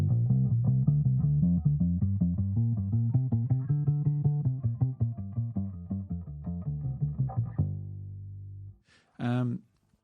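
A bass guitar plays quick three-note permutation patterns, a run of clear plucked notes in steady rhythm, ending on a sustained note and a short final burst, with no talking.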